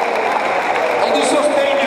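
Audience applause for a newly started women's rugby team at a team presentation in Rovato, a steady dense wash of clapping throughout, with voices mixed in.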